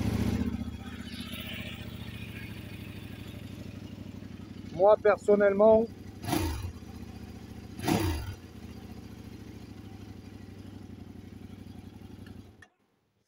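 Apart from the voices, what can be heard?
Kove 800X motorcycle engine running, noisy Chinese engine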